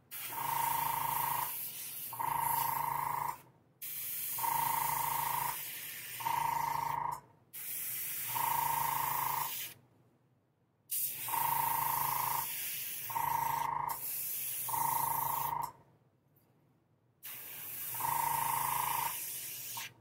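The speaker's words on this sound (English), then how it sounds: "I'm going to kind of spray into this groove right here, a little flat." Aerosol spray paint hisses in steady bursts of one to two seconds onto a quarter-scale prototype beast model, each burst broken by brief pauses, close and fairly loud with no talking.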